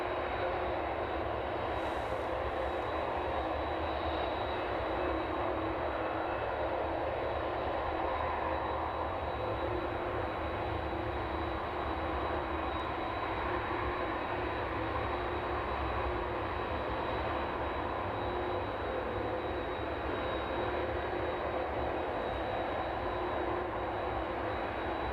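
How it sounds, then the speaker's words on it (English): Airliner engines at East Midlands Airport winding down after landing, a steady, loud broadband roar that holds evenly throughout without pause. "Brakes applied on that one out, and those engines shutting down."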